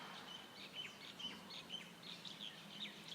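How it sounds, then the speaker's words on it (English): Small birds sing on Maui in August 2010, a faint outdoor chorus of repeated high chirps and short trills at a moderate distance. "there's lots of birds. They're all singing right now."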